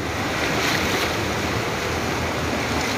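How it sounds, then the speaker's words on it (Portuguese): Heavy rain pours over flood water in Guarulhos, São Paulo, as a dense, loud, steady roar of rushing water and wind with no voices. "A chuva tá piorando, a água vai subir novamente porque a água tava baixando."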